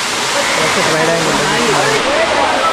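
A constant heavy rush of falling water fills the scene at Gandhari Medaram waterfall, dense and close, while someone speaks over the roar.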